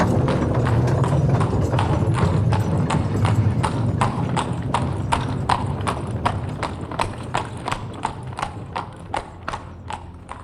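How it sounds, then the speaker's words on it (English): Horses haul rakes of ore trucks along rails in a Walhalla Long Tunnel gold mine, their hooves clip-clopping in a steady, regular rhythm over a low rumbling background, the individual hoofbeats standing out more sharply as it continues. "the sound of the ore trucks being hauled out of here by horses along the rails"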